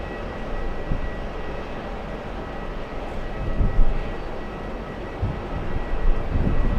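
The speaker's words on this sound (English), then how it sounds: "Let's go for JetBlue pushing." JetBlue airliner pushing back at an airport, a steady low engine rumble and hum with faint thumps, moderately close and unbroken, no voices.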